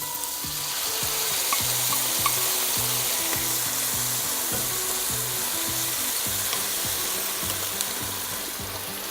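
Tinned Italian diced tomatoes sizzle loudly in a hot pan for huevos rancheros, a steady, dense frying hiss while they are stirred, with faint scraping and no talking.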